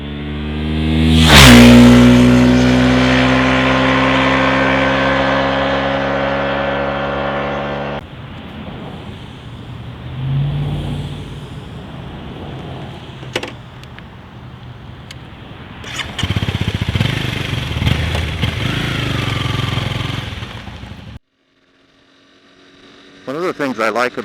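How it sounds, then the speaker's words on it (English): A 2011 Honda CBR250R motorcycle is ridden on a test ride, its engine droning loudly with rising and falling pitch through the gears, wind rushing around it, before cutting to near silence. "We're going to ride the bike during this test the way we normally do"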